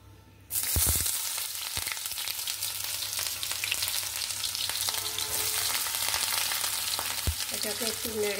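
Chopped onions hit a little hot oil in a pan for potol dolma filling, a sudden loud sizzle that stays steady and continuous, with a few utensil clinks and scrapes over it.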